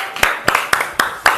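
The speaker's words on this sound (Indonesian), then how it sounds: "Kita beri tepuk tangan untuk kelompok King Kong." A few slow, distinct hand claps ring out in a classroom for a student group, about five separate claps spaced evenly, close and fairly loud with faint room noise between.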